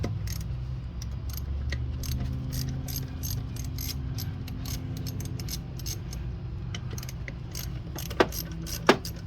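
Ratchet clicking steadily while backing out bolts on the ignition coil of a 2006 Ford Mustang, a continuous close mechanical rattle with a low engine-bay hum beneath and two sharp metallic clinks near the end.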